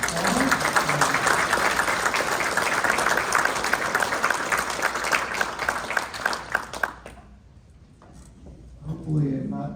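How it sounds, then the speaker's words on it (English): An audience applauds panelists at an economic forecast event, a steady wash of clapping for about seven seconds that fades out, followed by a voice starting to speak. "Please give these folks a applause."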